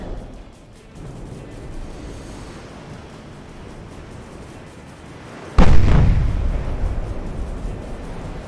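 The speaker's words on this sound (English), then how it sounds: "That's his secondaries. That's a casemate mounted gun." An enemy warship's casemate-mounted secondary guns fire in a naval battle video game, a single heavy booming blast after several seconds of low rumbling sea ambience, trailing off into a long rolling decay.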